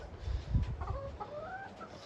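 Gamefowl chickens cluck and murmur in a pen, a few soft low grunts followed by rising, drawn-out clucks at close range, with some rustling and shuffling around them.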